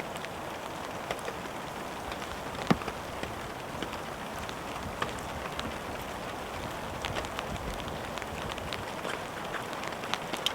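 Rain falls steadily in a forest, a dense, even hiss with scattered louder drops pattering close by throughout, fairly faint and with no voices.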